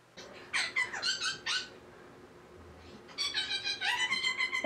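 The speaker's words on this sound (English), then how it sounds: "two cute yellow birds singing and talking" Two small yellow birds chirp and sing in bright, rapid bursts, one cluster of calls near the start and another livelier run toward the end, separated by a brief quiet stretch.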